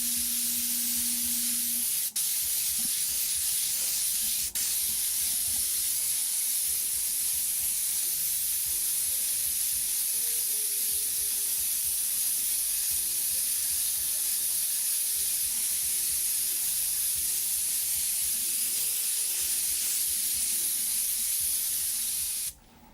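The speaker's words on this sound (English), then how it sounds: "we'll just take the dark color, the red oxide color, and we're going to just spray right over top of it" An airbrush sprays red oxide paint over a dragon stencil, giving a steady close hiss that runs almost unbroken for over twenty seconds and then cuts off.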